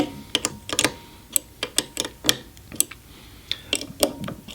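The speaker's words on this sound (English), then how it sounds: "Then I start and I work from the middle out and I snug up the rest of the nuts." Metallic ticks and clicks of a wrench snugging up the knife nuts on a wood planer, a loose irregular series of sharp close taps with no voice.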